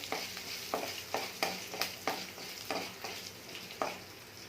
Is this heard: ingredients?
yes